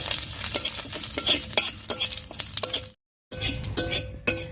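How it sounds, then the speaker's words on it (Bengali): Two dry red chillies and half a spoon of whole cumin sizzle in oil left from frying river fish, with a steady crackle broken by repeated sharp clinks of a spatula stirring in the pan. "ফোড়নের জন্য তেলের উপর দিচ্ছি 2টো শুকনো লঙ্কা আর দিয়ে দিচ্ছি 1/2 চামচ গোটা জিরা।"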